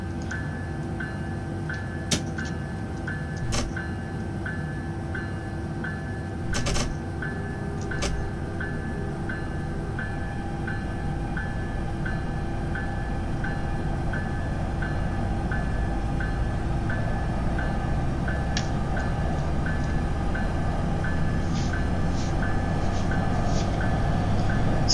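An NJ Transit train in the Train Simulator 2016 video game hums with a steady electric traction whine and low rumble, building slightly louder over time, with occasional clicks and ticks.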